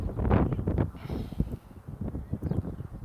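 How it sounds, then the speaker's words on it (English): Gusty wind buffets the microphone at a cold outdoor high school baseball game, heavy low rumbling bursts that rise and fall continuously without any clear talk. "Really cold, really windy comparatively."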